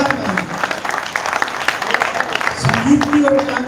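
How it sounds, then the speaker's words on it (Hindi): An audience at a music concert gives hearty applause, a dense crackle of many hands that keeps going throughout, while a voice speaks over it on a sound system. "जोरदार ताली।"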